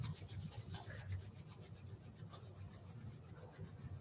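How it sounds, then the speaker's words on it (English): Palms rubbed together fast during a breathing and meditation practice, giving a steady, continuous close-up friction swish that runs the whole time with no talking. "Bringing the hands together in front of the heart center, rub your palms. Rub fast."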